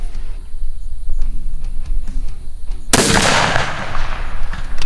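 Rifle fire at steel target plates on an outdoor range: a sequence of sharp, loud shots with distant metallic plate hits, ending in a sudden broad burst of noise that lingers for the last two seconds.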